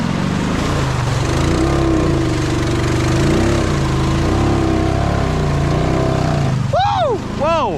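Honda Rubicon ATV engine fitted with massive new tires, running loud and steady with a rising and falling drone as it labours and shifts, near the listener, then a voice whoops excitedly at the end.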